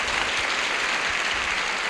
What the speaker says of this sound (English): And the audience applauded